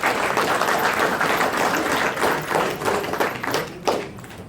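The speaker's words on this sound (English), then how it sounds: "they all deserve a round of applause for their hard work" Audience applause at a 2017 AHEPA event: dense, steady clapping from a large crowd that holds throughout and thins slightly near the end.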